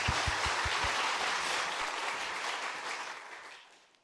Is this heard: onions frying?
no